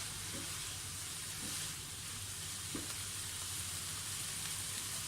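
Chicken mince for spring rolls fries in a pan with a steady, even sizzle, with a few faint stirring clicks over the constant hiss.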